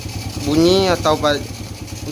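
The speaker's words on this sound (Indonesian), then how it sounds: "di sini untuk motornya sudah saya hidupkan" A Honda Supra Fit motorcycle engine idles with a steady low rumble beneath someone talking close by.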